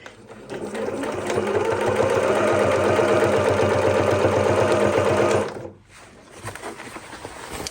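A sewing machine stitches through layered denim with a size 16 needle for a harvest apron, its steady rapid motor chatter running close and even for about five seconds before abruptly stopping.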